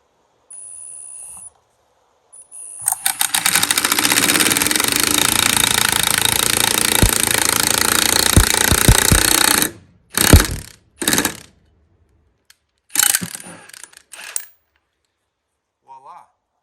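An impact gun tightens a control arm bushing sleeve on a 1972 DeTomaso Pantera, loud rapid hammering and rattling for about six seconds, followed by a few short bursts with gaps between them.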